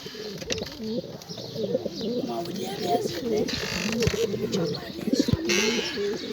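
Several Mardin tumbler pigeons coo in overlapping, warbling calls close by, with scattered chirps, a few knocks and light rustling throughout.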